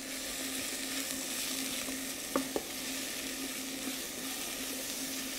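Vegetables sweating in a pan as the base for a brown sauce, a steady close sizzle and frying crackle with a couple of brief utensil knocks against the pan.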